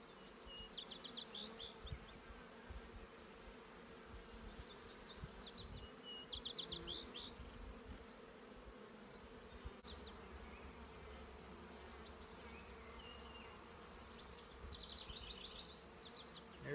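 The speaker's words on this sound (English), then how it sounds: "Lots of young bees walking around." A steady, dense buzzing of honeybees in a nuc hive fills the clip, a close, continuous hum with brief higher wing whines rising over it now and then.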